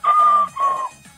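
Two short, loud squawking calls from a chicken, close by and back to back.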